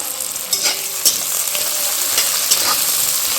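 Onions frying in an oily pan for a fish curry make a loud, continuous sizzle and crackle, with a few brief stirring scrapes rising over the steady hiss.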